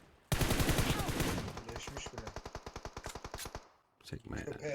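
Automatic rifle fire in PUBG Mobile, loud and close, a rapid burst that settles into a long run of evenly spaced shots before stopping, then a few more distant pops with voices talking.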